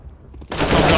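A single loud gunshot in a Counter-Strike style shooter game during a competitive esports match, firing abruptly after a half-second of quiet and ringing out with a broad blast.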